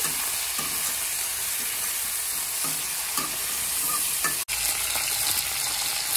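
Green chili curry sizzles and fries steadily in a pan while a utensil stirs it in a loose rhythm of soft scrapes, close and fairly loud, with a very brief dropout partway through.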